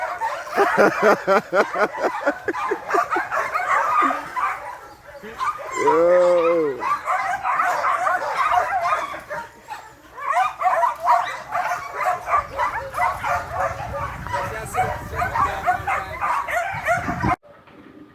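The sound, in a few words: dogs barking and whimpering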